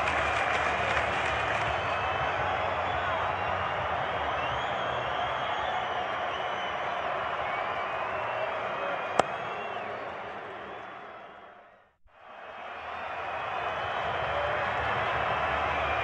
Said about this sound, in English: The crowd is on their feet after that massive six.